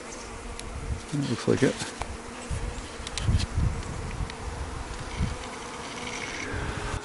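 Honeybees buzz steadily and nearby while a bee package is installed into a hive; a voice speaks briefly over the humming swarm.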